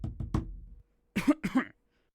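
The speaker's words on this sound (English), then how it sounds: "The teacher coughed and tapped the floor with his foot to get his attention." A teacher coughing in a story scene: a quick cluster of three close coughs, a pause, then two more harsh bursts, with no talk.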